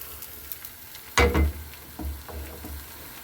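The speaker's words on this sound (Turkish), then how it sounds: "En büyük ocağımın biraz kısık ayarında pişiriyorum hamuru şöyle." Kukuşa dough cooking on a large stove burner turned low, giving a soft sizzle with a few louder bursts of frying and scraping, close by and without speech.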